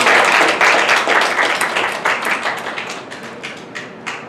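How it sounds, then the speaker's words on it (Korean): A church congregation claps in thanksgiving at a New Year service, loud dense clapping at first that thins into scattered, separate claps as it dies away. "우리 2019년 새해를 주신 하나님 앞에 우리 감사와 영광의 박수 한번 하겠습니다"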